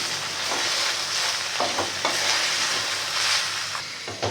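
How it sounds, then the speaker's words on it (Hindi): Cluster beans stirred in a hot pan with salt and turmeric, giving a continuous close sizzle broken by a few soft scraping strokes of the spoon. "इसको हम थोड़ा सा चलाएंगे पहले"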